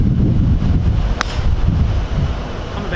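Steady wind buffets the microphone on an autumn golf course at River Vale CC, a continuous low rumbling roar throughout, with one brief sharp tick near the middle and no talking.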